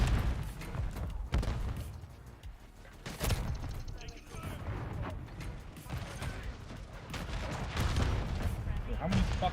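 Call of Duty match with repeated grenade explosions and bursts of gunfire, booming and cracking at irregular intervals under a speaking voice.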